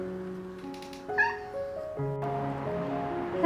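A house cat meows in a few clear, tonal calls, close and fairly loud, with no talk over it.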